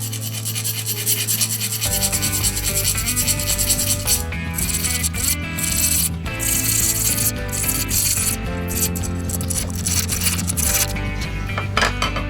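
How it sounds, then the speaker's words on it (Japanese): A fine-toothed steel file rasps steadily across the piston of a CD50 engine, with continuous close scraping strokes and a few brief pauses and no talking. "目の細かいね、 鉄ヤスリっていうのかな、これでやっちゃいます"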